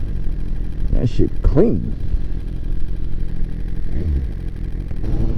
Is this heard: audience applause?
no